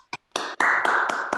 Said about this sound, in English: let's see if we can get a loud hoot and holler congratulations applause